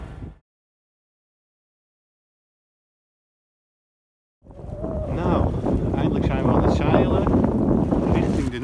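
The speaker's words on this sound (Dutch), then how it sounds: "Ik vaar nog steeds op de motor." A sailboat motors along under engine power on a Pentecost cruise, with strong wind buffeting the microphone and water rushing past; after a brief sound and a long silent gap, the steady roar builds and holds.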